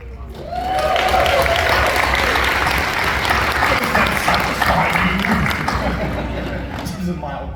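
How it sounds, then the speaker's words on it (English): A convention panel audience gives sustained, fairly loud applause that holds steady before tapering slightly, with a voice briefly audible underneath. "This is a mild clap."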